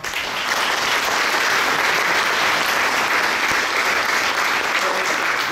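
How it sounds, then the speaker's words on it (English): Audience applause for Albert at a banquet, a steady dense wash of clapping hands that holds loud and even for the whole stretch, with a faint murmur of voices underneath. "round of applause for Albert"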